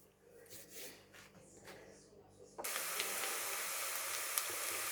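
Onions hitting about 50 to 60 grams of hot oil in a pan burst into a loud, steady sizzle that holds to the end, after a quieter stretch of faint kitchen noise.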